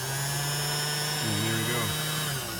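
A Boley Leiden watchmaker's lathe, driven by a leather belt and switched on with a foot controller, runs with a loud, steady high-pitched motor whine and a shifting tonal hum partway through, then winds down at the end.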